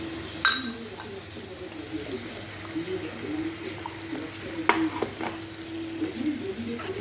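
Tomato puree goes into a hot pan of fish and ridge gourd curry, giving a steady low sizzle with stirring, a few sharp utensil clinks, and a faint voice in the background.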